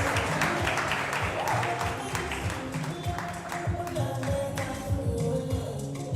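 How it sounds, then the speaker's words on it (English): A crowd at a World Robot Olympiad awards ceremony in Zimbabwe keeps applauding, a sustained, fairly loud patter of many overlapping claps with some sharper individual taps, continuing without a break. "Let's keep the applause going."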